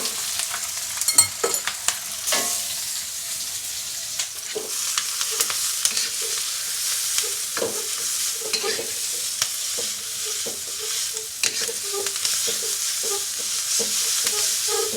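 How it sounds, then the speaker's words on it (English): Lo mein noodles sizzle in a hot pan with carrots and onions for a char siu lo mein, under a steady hiss of frying and repeated scraping, clattering stirs. "you want to cook the carrots and the onions for just a few minutes"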